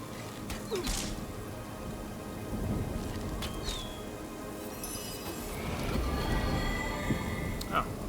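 Rain and thunder conjured by a rain spell in the game Divinity: Original Sin, a dense patter of rainfall under low rumbling thunder, with scattered game effect chimes and tones layered on top.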